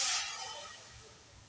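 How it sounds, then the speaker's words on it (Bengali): Water goes into a hot kadai on a gas stove and sets off a sharp burst of steam hiss that fades over about a second. "এবার কড়াইয়ে দিয়ে দেব জল।"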